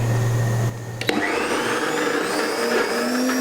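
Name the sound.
blender reblending satay dip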